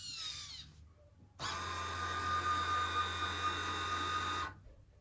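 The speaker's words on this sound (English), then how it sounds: "the system senses when the gripper is finished moving so it can move to the next phase of operations" The gripper motor on a robot arm, a linear actuator in series with a spring, closes to pick up a banana. A steady, close mechanical whine starts abruptly, holds for about three seconds, then cuts off.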